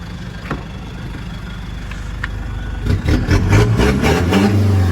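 A Toyota Hilux Vigo engine fitted with a throttle remap idles quietly, then revs up sharply in quick bursts. It rises to a loud, close roar over the last couple of seconds.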